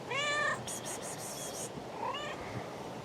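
A cat named Cali, an eight-year-old garden cat, meows close by in a few rising cries, quiet between them.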